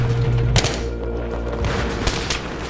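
Grenade blast in Battlefield 3 gameplay: a sharp burst near the half-second mark, then a dense rumble of explosions and gunfire carrying on loudly for a couple of seconds.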